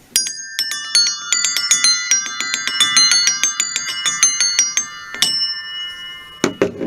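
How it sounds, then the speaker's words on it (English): A small set of bells struck in quick succession with a hammer, bright ringing tones in a rapid run of a dozen or more strikes with lingering overtones, then a few final hits, close and clear. "And then we have a set of bells"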